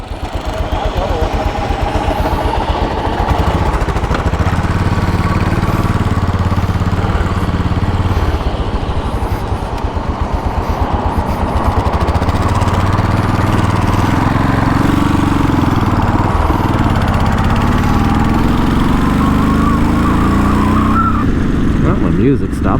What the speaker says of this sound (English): the rhythmic sound of the Royal Enfield Bullet 500 UCE engine